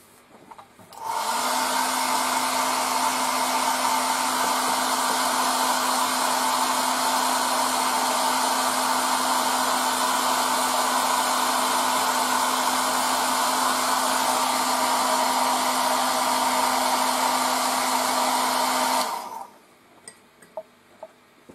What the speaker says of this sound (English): now let's use your dryer again